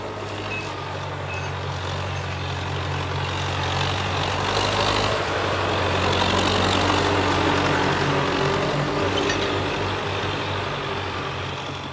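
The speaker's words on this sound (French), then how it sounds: "le tracteur a remplacé le cheval." A tractor engine running in a rural Danube delta setting, a steady low droning rumble that swells slightly toward the middle and carries on without speech.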